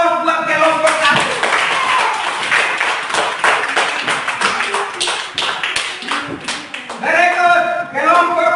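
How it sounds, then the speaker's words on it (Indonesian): Group of students in an Indonesian classroom clapping for the first team, a dense burst of hand claps lasting several seconds, with voices mixed in near the start and end. "Kita aplaus buat kelompok 1."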